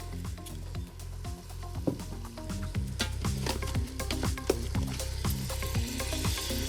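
Red wine hitting a hot pot while making a pressure cooker Bolognese, a steady loud sizzle with crackling pops and scraping, alongside a repeating low mechanical rhythm throughout.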